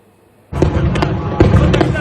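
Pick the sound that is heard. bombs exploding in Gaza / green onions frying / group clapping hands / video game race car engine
bombs exploding in Gaza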